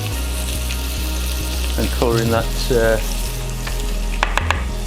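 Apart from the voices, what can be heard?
bacon-wrapped stuffed chicken sizzling in a frying pan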